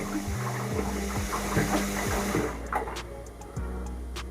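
An Indesit washing machine with a 5 kg drum runs a water fill, with a humming pump tone and rushing water that changes character midway, steady and close.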